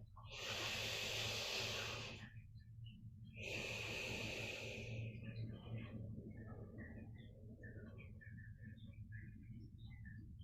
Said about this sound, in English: another slow breath.